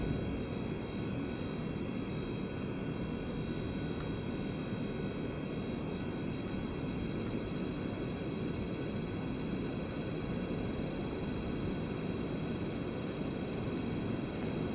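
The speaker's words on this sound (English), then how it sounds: "we got a landing aircraft coming in right now" A Delta jet landing in a flight simulator gives a steady, faint engine drone with constant broadband rush and no clear change throughout.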